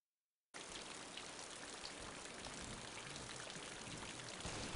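Light rain falls in a video game match, a steady broadband hiss of drops and pattering that fades in after a brief silence and holds evenly throughout, with no talking.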